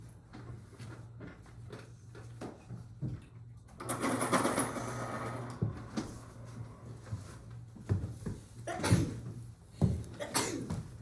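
A single sharp sneeze bursts out in a classroom during a lesson, surrounded by a steady low hum and scattered small knocks and shuffles.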